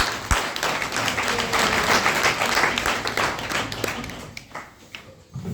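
A crowd at a speech event breaks into sustained applause, many hands clapping together in a dense, steady patter that fades slightly toward the end.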